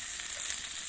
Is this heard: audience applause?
no